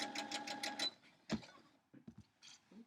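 Sewing machine running in a short rapid burst while stitching a quarter-inch seam on a Friendship Star quilt block, followed by scattered clicks and handling noises.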